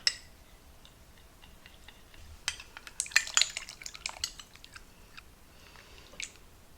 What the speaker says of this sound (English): we'll give that stir